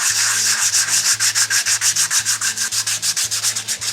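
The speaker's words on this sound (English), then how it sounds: "I'm just going to work for a while on sanding both the front surface" Hand sanding across a hardwood surface, a steady back-and-forth scrape repeating roughly every quarter second, close and even with no talk.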